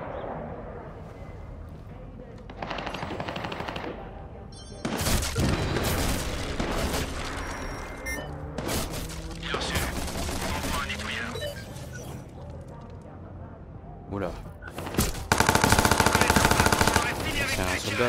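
Heavy-weapon machine gun fire in the video game Watch Dogs 2: loud sustained bursts of automatic gunfire with booming impacts and cracks, continuing through most of the stretch with a dense final volley.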